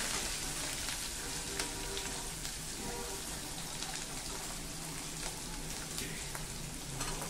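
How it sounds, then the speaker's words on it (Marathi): Cloves and garlic frying in oil for a dhaba-style moong dal tadka, a quiet, rain-like crackling hiss that runs steadily throughout with faint scattered pops and no speech. "ह्या ज्या 3 ते 4 लवंगा मी घेतल्या आहेत त्या लवंगा याच्यामध्ये घालायच्या आणि हे मस्तपैकी परतून घ्यायचं।"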